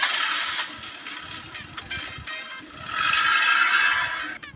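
In a cartoon, a car engine cranks and catches with a loud, buzzing, harsh mechanical rattle that dips in the middle and swells again before cutting off abruptly.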